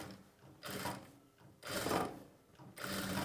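A sewing machine stitches a normal sleeve seam on a puff-shoulder garment in three close bursts of whirring mechanical stitching, with short pauses between them and no talking.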